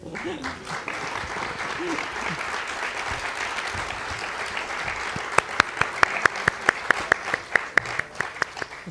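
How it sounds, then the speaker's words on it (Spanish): An audience applauds after a symphony performance, a steady wash of clapping from a crowd that thins out near the end into a few distinct, close, sharp claps. "creo que este aplauso hay que dedicárselo al solista de esta sinfonía, que es Cristo."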